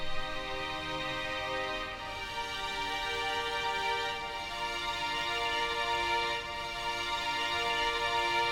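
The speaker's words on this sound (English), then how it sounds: "so I added these two violins on top of the already existing violins" Layered sampled violins, two extra parts panned hard left and right over existing violin tracks, hold sustained, bright bowed chords in a dense, steady ensemble without any talking.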